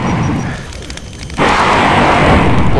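Explosions in Doom with the Brutal mod: a rumbling lull breaks into a sudden loud boom that turns into a sustained roaring blast of fiery noise through to the end.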